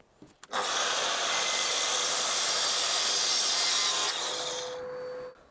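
A power saw cuts an angled cut through wood in one long continuous run of bright, rasping noise, starting after a couple of short knocks and winding down with a fading motor whine at the end.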